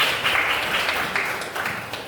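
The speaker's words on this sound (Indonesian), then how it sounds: "Tepuk tangan buat kelompok 1." Classmates in a grade 11 Qur'an and Hadith lesson applaud a student group after its presentation, a steady, fairly close patter of hand claps filling the room for about two seconds, with no speech over it.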